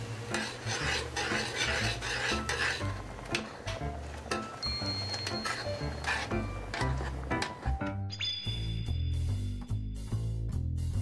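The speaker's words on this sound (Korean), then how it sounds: "찹쌀풀 만들어요." Glutinous rice flour paste is stirred in a pot, steady scraping and swishing strokes with faint clinks of utensil against the pot, close and continuous with no talk.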